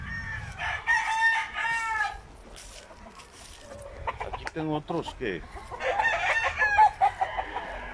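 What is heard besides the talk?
roosters crowing at a gamecock breeding farm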